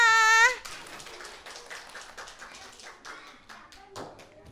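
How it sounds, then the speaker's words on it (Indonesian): Kindergarten children clap together at a school holiday event, a dense, brisk patter of small hands that starts right after a short tonal sound and keeps going steadily at moderate loudness. "Iya, tepuk tangan semuanya."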